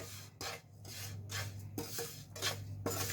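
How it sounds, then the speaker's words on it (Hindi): Semolina is stirred in a hot pan with a utensil, producing repeated scraping, rasping strokes against the metal in a steady rhythm, close and fairly quiet over a low background hum, with no talking. "पैन अभी भी हमारा गर्म है, इसलिए हम सूजी को लगातार हिलाते रहेंगे"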